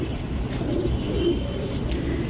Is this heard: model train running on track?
no